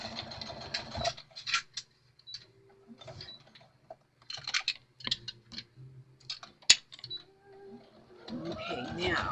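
A home sewing machine top-stitches along a fabric edge in short bursts of rapid mechanical stitching, close and moderately loud, with pauses and a small click between runs, under quiet speech.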